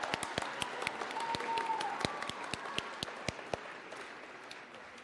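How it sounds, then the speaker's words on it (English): Audience applause at a fall awards ceremony, a steady crowd clapping with sharp individual claps standing out, held for about five seconds at moderate distance with no talking over it. "So give them a round of applause,"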